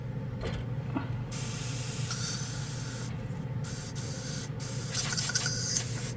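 An Iwata RG-3L airbrush spray gun blasts acetone through itself for cleaning, giving a loud, sustained hiss of spray with short pauses and mechanical clicks between bursts.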